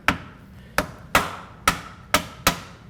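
A mallet taps a front brush guard into place on a 2025 Yamaha RMAX4: six sharp, evenly spaced knocks, close and loud, with quiet gaps between.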